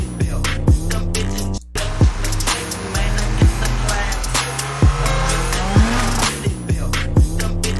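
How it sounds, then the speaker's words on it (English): A car engine revs hard again and again, its pitch climbing and then dropping with each quick shift, loud and close. "Because now I hear the revs going up."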